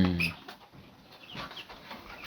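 Chickens cluck softly nearby in a few short, scattered calls over quiet background noise.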